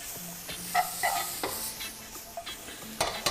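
Garlic tossed into a hot pan and stirred for chicken marsala, a soft steady sizzle with scattered scraping clinks of a utensil against the pan, fairly quiet and close.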